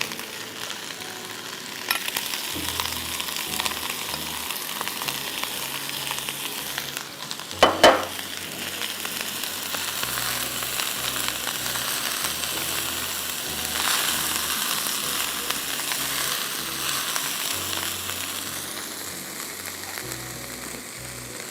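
Half a kilo of everyday rice fries with golden onions in a pot, a steady close crackling sizzle throughout, with a sharp clatter of a utensil midway and occasional faint stirring scrapes.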